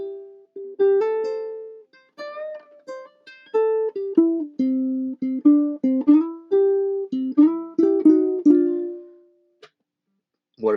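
Solo ukulele plays a short melodic phrase of plucked, chord-tinged notes, then repeats it, each note ringing briefly with clear gaps between phrases; close and moderately loud, no voice.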